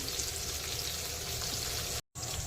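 Bombay duck (bombil) fish frying in a pan over a medium flame, giving a steady, dense sizzle with crackle that is briefly cut off by a short silent gap.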